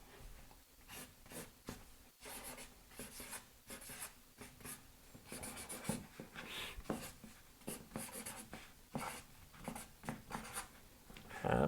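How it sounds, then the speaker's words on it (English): Pen writing a message inside a handmade Mother's Day card, steady close scratching strokes in short bursts with brief pauses, quiet and alone without talk. "and write something on the inside"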